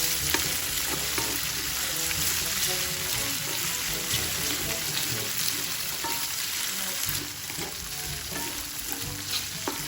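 Ham slices frying in a pan, a steady dense sizzle and crackle with faint stirring scrapes, loud and continuous throughout.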